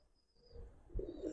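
A red-eyed, full-silver Giribaz jumping pigeon from Old Dhaka gives a soft coo that swells after a quiet start, faint and close, with no voices.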